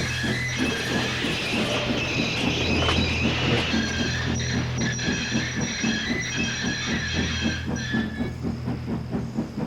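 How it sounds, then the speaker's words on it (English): A steam locomotive chuffs slowly and steadily while starting a heavy train, with hissing steam and clanking mechanical rattles, a heavy rhythmic labour close by with no voices. "At first, he found it hard to start the heavy train."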